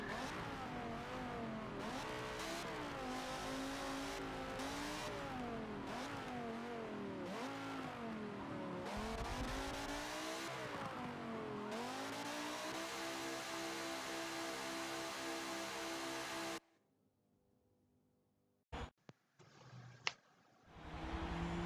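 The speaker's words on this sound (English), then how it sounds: "We're going to take these two Fiats around the full Nürburgring." Two Fiat race cars circle the Nürburgring in Forza Motorsport 7, engines droning and revving steadily with rising and falling pitch through gear shifts, then cutting out to near silence broken by a few brief clicks.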